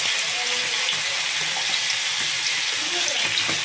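Onion frying in a pan of hot oil, a steady broadband sizzle with faint clinks and stirring, close and continuous throughout.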